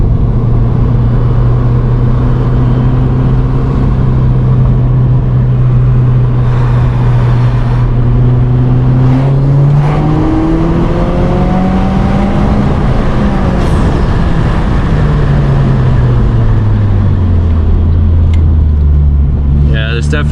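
A 2017 Subaru WRX Premium with a CVT in Sport Sharp mode revs up steadily through stepped simulated upshifts, its engine drone climbing, dropping and climbing again, loud and close from inside the cabin.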